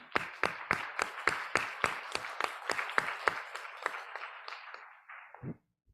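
Church audience applause at a Sabbath service during an Africa Month celebration: a steady, rhythmic run of loud, close claps that carries on for several seconds, then thins and stops.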